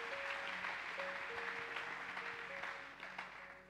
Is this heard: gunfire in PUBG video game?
no